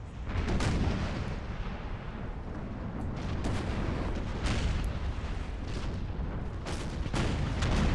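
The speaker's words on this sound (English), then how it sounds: "taking heavy broadsides from my ships, opening up the starboard batteries" Heavy cannon broadsides from sailing warships in Empire: Total War roar continuously, dense booming artillery salvos overlapping with sharper crack-like shots rising through the barrage, loud and sustained throughout.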